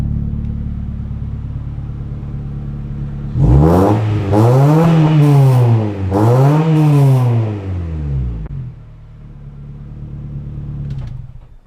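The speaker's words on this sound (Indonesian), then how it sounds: "Tapi begitu di di gas ya, atau di pencet gasnya, suaranya enak garing gitu guys." Close-up, a Honda Jazz GD3 VTEC engine idles, then gets revved hard three times in quick succession through a raspy aftermarket exhaust, each rev rising and falling, before settling back to idle.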